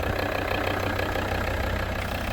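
A 2024 Volvo V90 Cross Country B5 engine idles with a smooth, steady, low hum, close and with no one talking.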